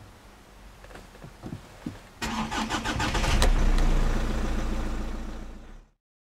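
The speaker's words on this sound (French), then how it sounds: "Maintenant, on va voir si la voiture démarre." A Hyundai Santa Fe engine cranks over and fires, with a few clicks and turns before the starter catches, then the engine runs at a steady, loud idle until the sound cuts off.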